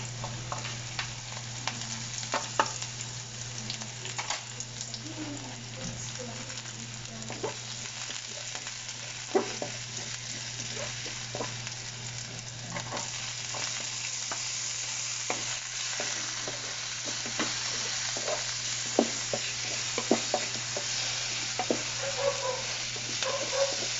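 Eggplant filling for tortang talong sautéing in a pan: a steady, close sizzle of frying with frequent scraping and clacking stir strokes throughout, with no talking.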